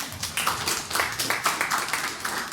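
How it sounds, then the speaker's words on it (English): An audience at a Next.js workshop talk claps, a burst of close, fairly quiet hand claps in an uneven patter that lasts a couple of seconds. "were you going to start clapping without me prompting?"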